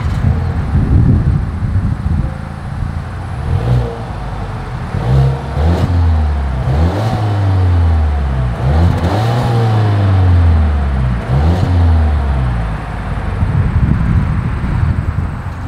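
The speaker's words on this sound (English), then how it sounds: "As always, here is that exhaust clip." Exhaust of a 2022 Volvo XC40 compact SUV revving repeatedly, a series of rising and falling engine pulls heard close up outdoors with some wind noise, no talking.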